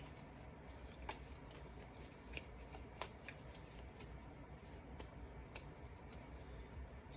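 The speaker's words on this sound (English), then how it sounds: "shuffle my discard, form a new deck." A deck of cards is shuffled up close during a solo Star Realms: Frontiers card game, with a continuous papery riffle and sharp flicks and clicks. No one speaks.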